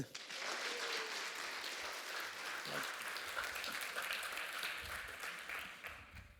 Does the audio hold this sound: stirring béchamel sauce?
no